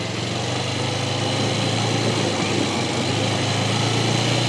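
Motorcycle engine running steadily through a tight turn around a middle lane on a test practice course, a continuous droning hum at fairly constant loudness with no talking.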